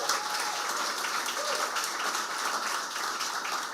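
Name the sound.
audience applause at award ceremony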